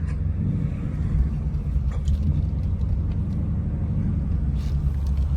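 Ford Mustang Mach 1 (S550) heard from inside the cabin while driving: a loud, continuous low engine rumble with steady road noise and no clearly separate gear changes.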